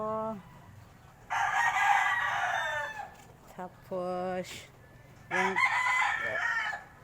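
A rooster crows loudly twice, long drawn-out calls with a few shorter clucks between them, and a brief spoken word in the background.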